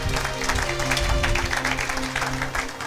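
A church congregation applauds during a sermon, a dense, continuous patter of many hands clapping together for a few seconds, with faint voices mixed in.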